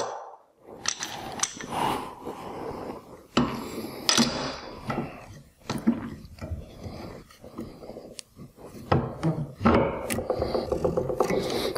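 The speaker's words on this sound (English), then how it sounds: "So I'll just go ahead and clamp this now." Wood pieces being clamped into a slot mortiser jig, a mortise mill: close, scattered knocks, clicks and scraping rubs of wood and metal come in uneven bursts, with quieter handling noise between them.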